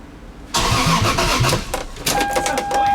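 A Toyota Supra engine cranks and then catches at once, settling into a steady, close-up idle with a few louder surges and a faint whine over the running engine.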